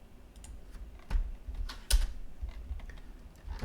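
A shortcut is typed on a computer keyboard while trimming curves in Rhino 3D: a few scattered, close keystrokes with quiet pauses between them and no talking.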